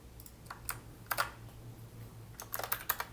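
Clicks of a computer keyboard as a Pro Tools shortcut is typed: a few separate keystrokes near the start, then a quicker run of four or five taps at the end, close and fairly quiet over a low steady hum, with no talking.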